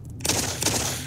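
Pistol fire in Doom 3 VR, a few quick close shots in sequence over a dense, busy game mix with no voices.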